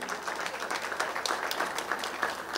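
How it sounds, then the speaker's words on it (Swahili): Applause for Margaret Kenyatta at Kasarani Stadium during the World Athletics U20 Championships, a steady wash of crowd clapping that holds at an even level for the whole stretch. "Tumpigie makofi tafadhali."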